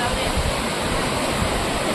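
Sea waves washing onto a beach at high tide near a coastal fort, a loud, close, continuous broadband rush of surf without distinct breaks.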